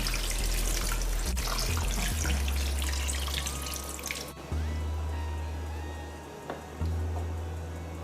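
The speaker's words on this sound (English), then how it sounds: "I'll add the boiling water now." Boiling water poured into a pot of basmati rice makes a steady rushing splash that shifts and settles, with a low kitchen hum underneath and no talking.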